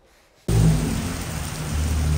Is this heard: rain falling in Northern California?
yes